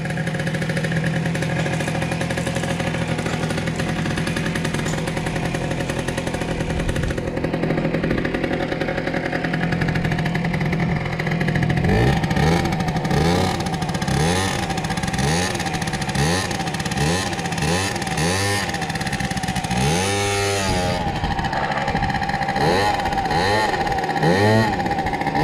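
An Aprilia SR50 scooter with a broken throttle cable, its engine running loud and close. It idles steadily at first, then gives repeated revs that rise and fall in pitch.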